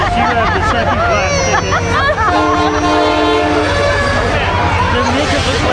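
A train rumbles past with sustained horn-like tones sounding over it, while a crowd chatters steadily in the background.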